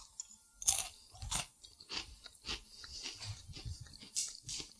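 Sailor Boy Pilot Bread, a dry, crumbly cracker, is chewed close to the microphone with repeated irregular crunches and bites, and no talking.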